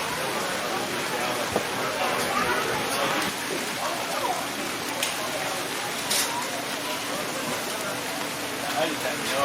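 Steady rain patters and hisses continuously on a tent at an outdoor St. Patrick's Day event, with occasional louder drops and faint voices mixed underneath.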